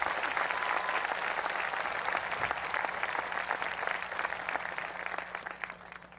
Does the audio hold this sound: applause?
yes